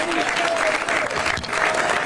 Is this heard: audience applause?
yes